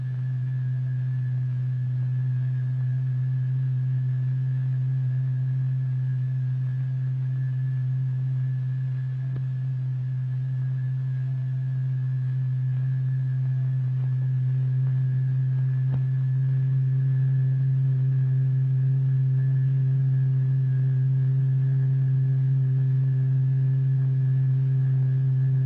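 A steady, sustained low tone drives vibrating matter in a cymatics demonstration, humming continuously and evenly at constant loudness with faint higher overtones throughout, no voices.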